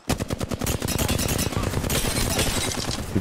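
Rapid automatic gunfire in the Apex Legends video game hammers close and loud in a steady stream of cracking shots, the rhythm blurring into a sustained roar partway through.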